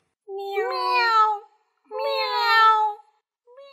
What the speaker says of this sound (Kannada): ತಾಯಿ ಬೆಕ್ಕು ಅದರ ಮರಿ ಬೆಕ್ಕು ನಡುವೆ ನಡೀತಕ್ಕಂಥ ಸಂಭಾಷಣೆಯನ್ನು ಕೇಳಿಸ್ಕೊಳ್ಳೋಣ